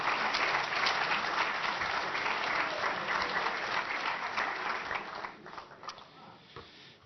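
A Hall of Fame athletics banquet audience applauds and cheers, a loud dense wash of clapping that holds steady for about five seconds, then thins and tapers off.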